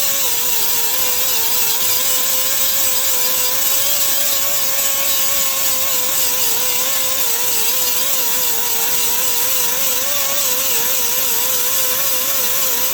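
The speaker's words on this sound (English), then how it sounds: "I grinded the 18 gauge into the 20 gauge." A grinder works the welds on 18 and 20 gauge sheet metal in a patch panel repair, giving a loud, steady whine that wavers slightly in pitch as it runs without a break.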